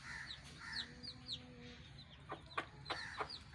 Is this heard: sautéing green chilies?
no